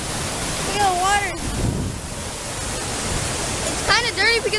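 A Chiapas waterfall, muddy after rain, roars as a steady broad rush of falling water. Excited voices break in over it twice.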